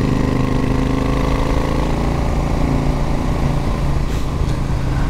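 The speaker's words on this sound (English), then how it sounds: "I've fitted to my Royal Enfield Super Meteor 650 here the Tec Bike Parts Canon exhaust system, the complete system" Royal Enfield Super Meteor 650 fitted with a complete Tec Bike Parts Canon exhaust system, idling with a steady, throaty low rumble that stays loud and close throughout, with no talk.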